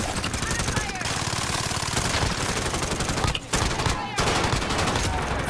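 Rapid automatic gunfire in the video game Call of Duty Warzone rattles almost continuously, loud and dense, breaking briefly twice, with players talking over it.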